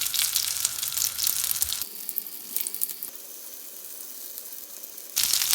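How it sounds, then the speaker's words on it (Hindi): Aloo tikki potato patties shallow fry in oil in a pan or on a griddle, giving a continuous crackling sizzle that is loud and busy, drops to a softer hiss in the middle, then swells again. "बस अब हमने एक एक ये टिक्की फ्राई करते जाना।"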